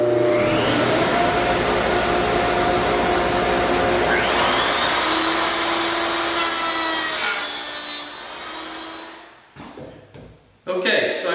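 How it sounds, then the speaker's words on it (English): A router at a router table cuts wood pieces for a shirt display, making a loud, steady high-pitched whine that rises and falls with each pass and then stops near the end, leaving brief knocks. "all I'm going to do is cut these at the router table"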